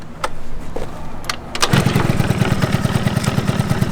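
A 1989 Yamaha Zuma two-stroke scooter engine with a possible fault catches and settles into a loud, steady, rapid putter after a few rough starting pops, recorded close up with no talking.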